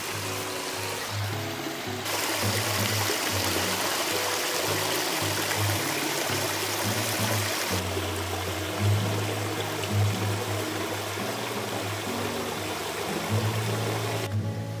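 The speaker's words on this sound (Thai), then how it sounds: "เดี๋ยวเรามาฟังเสียงลำธารกันนะครับตอนเช้า" A steady stream flows and gurgles continuously over rocks in the morning, close and fairly loud, with a low hum underneath.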